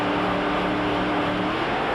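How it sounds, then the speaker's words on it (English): Loud, steady top alcohol dragster engines roaring close by at Willowbank Raceway, 1993 Winternationals, a harsh continuous rumble held at high revs with no pauses. "Revs building top alcohol dragsters."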